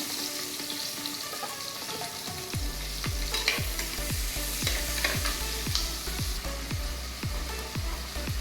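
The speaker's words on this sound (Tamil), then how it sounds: "சின்ன வெங்காயம் ஒரு 10 இருக்கும். பூண்டு ஒரு பூண்டு, 2 தக்காளி வதக்கிக்கலாம்." Shallots, garlic and tomatoes sauté in a pan for kathirikai kara kuzhambu, with a steady close sizzle and repeated rhythmic scraping stirs and no talk.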